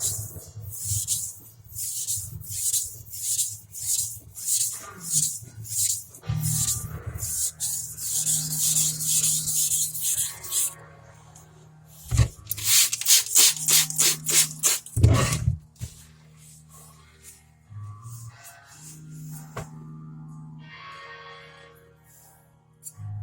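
A gyuto chef's knife drawn across a sharpening stone in a series of rhythmic rasping strokes, close and distinct, with pauses between passes and a few short, quicker strokes later on.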